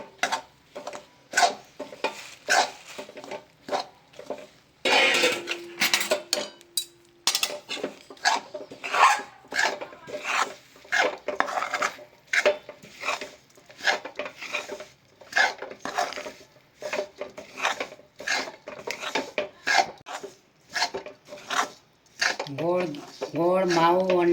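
A spoon scrapes and stirs jaggery, mawa and crushed sesame in a pan in repeated rhythmic close strokes, with sticky rubbing and occasional clinks of metal.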